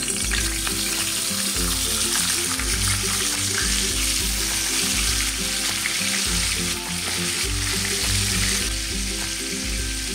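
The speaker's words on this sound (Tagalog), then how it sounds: "Painit po muna tayo ng mantika mga ka-viewers at pipirito po natin yung pong isda" Lapu-lapu fish sizzles and crackles steadily in hot oil, a loud continuous frying hiss with faint clinks underneath.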